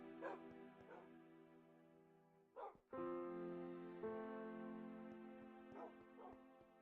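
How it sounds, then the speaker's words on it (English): Dogs in the Minecraft Bedrock video game barking and whimpering as they are petted, with repeated short yips and long high whines, fairly close and clear, with faint talk in the background. "I'm petting the dogs."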